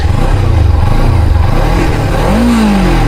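A 2025 Kawasaki Ninja 300 motorcycle engine revving hard toward 13,000 rpm, a loud, close, buzzing roar with rising pitch near the end and no voices.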